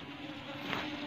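Aggressive honey bees buzz near their hives, a short, steady close-up drone.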